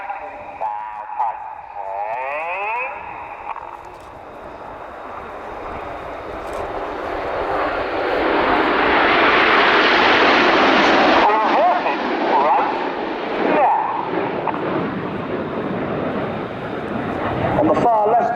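Red Arrows BAE Hawk T.1 jets in a flying display at an air tattoo, a jet roar swelling to a loud broad rush mid-pass and then fading, with a commentator's voice heard over the noise.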